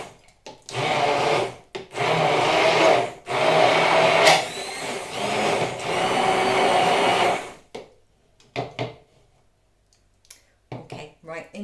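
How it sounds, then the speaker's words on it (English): A hand blender whirs through banana and oat pancake batter in several loud, buzzing bursts with short pauses between, followed by clicks and quieter handling sounds. "next I'm going to mix them with my hand blender"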